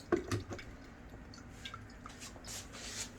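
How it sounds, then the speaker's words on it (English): Aji mango hot sauce drains quietly through a strainer into a jar, with a few soft drips and wet squishes at the start fading to faint trickling. "And then we'll just let that drain."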